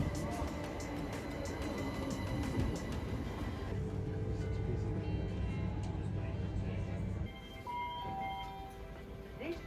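A GWR train rumbles and hums steadily from inside a carriage on the way to London Paddington, with tonal whines from the motors and a drop in noise near the end.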